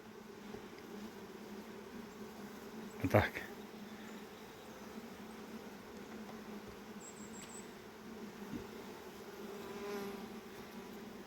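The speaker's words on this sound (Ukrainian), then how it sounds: "Отак, отак працює Карпатка у нас в горах." Carpathian honey bees hum at a hive in the mountains. The drone is faint and continuous, with a few brief louder knocks and rustles near the hive.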